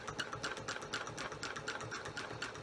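A sewing machine runs long basting stitches on a small frame, a quick, steady mechanical clatter of needle strokes, faint and continuous with no voices.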